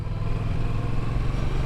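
A 2019 Yamaha XSR700 motorcycle engine while riding, giving a steady, dense low throb with a constant loud hum and no pauses throughout.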